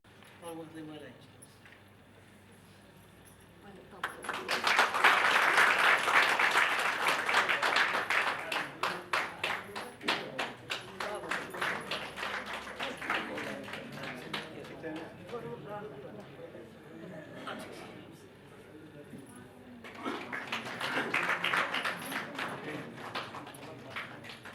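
Audience applause welcoming guests to the stage at a formal gathering in Chitwan, a dense burst of many hands clapping that swells loud, eases under a speaking voice, then rises again near the end.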